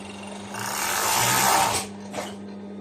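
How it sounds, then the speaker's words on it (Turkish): An overlock serger stitches the sides of a child's skirt in a short, close whirring burst that rises and stops, followed by a brief second pulse over a steady hum. "Ve şimdi eteğimin yanlarına da overlock çekiyorum."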